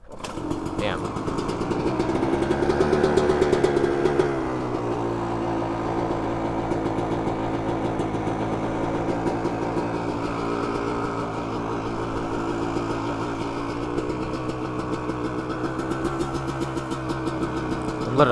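A cold dirt bike engine idles steadily just after a kick start, its loud, close putter revving a little at first and then settling into an even, continuous rumble.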